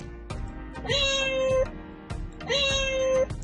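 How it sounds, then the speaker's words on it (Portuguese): A cat meows twice, close and clear, two drawn-out whining calls separated by a short pause. "Agora o miado."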